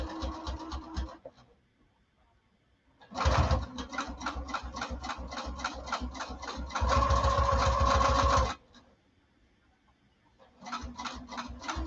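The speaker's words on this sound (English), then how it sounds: "now I'm going to sew back down the other side" A quiet domestic sewing machine stitches down the other side of fabric in bursts, a fast rhythmic whirring chatter that starts and stops with short silent pauses in between, close and fairly soft.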